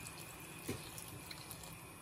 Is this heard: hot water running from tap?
yes